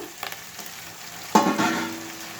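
Tomatoes dropped into a hot pan of oil for gongura curry, with a sudden loud sizzle and spatter that settles into steady crackling frying, alone without talk.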